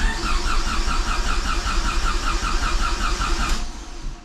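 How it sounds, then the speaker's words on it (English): Dodge SRT-4 engine cranking over after a fuel system install, a steady loud whirring starter drone with rhythmic pulsing that runs continuously for several seconds before cutting off near the end. "Oh, it's cranking better."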